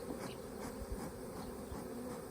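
A honey bee swarm buzzes in a dense, steady, close drone that holds without a break.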